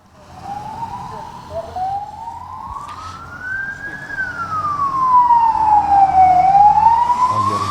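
An ambulance and a civil defence vehicle pass by in Soran, their siren wailing in long rising and falling sweeps. It grows steadily louder over a low rumble of traffic.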